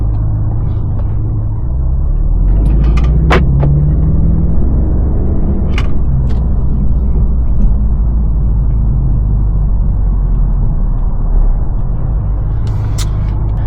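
BMW M550 engine in sport mode while driving, a loud, steady low rumble from inside the cabin with occasional faint clicks and ticks, no speech.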